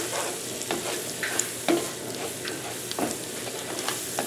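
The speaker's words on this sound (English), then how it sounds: "Once you have that flour and that butter combined, go ahead and stir it all together." Flour and butter roux for Southern sausage gravy cooking in a pan, a steady sizzle under repeated soft spoon strokes and light scrapes against the pan, no talking.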